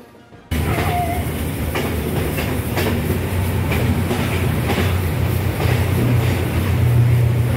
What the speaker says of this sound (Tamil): அப்படியே கொஞ்சம் கொஞ்சமாக மூவ் ஆக ஆரம்பிச்சுது கல்கமுவா ரயில்வே ஸ்டேஷனில் இருந்து ட்ரெயின்.